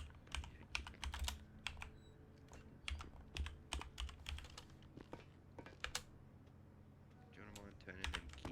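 Fast computer keyboard typing, bursts of crisp key clicks and clacks in uneven rhythm, close and fairly quiet, with short pauses between runs and faint voices in the background.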